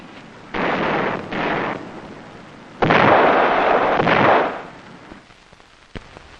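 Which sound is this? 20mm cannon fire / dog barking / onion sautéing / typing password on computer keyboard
20mm cannon fire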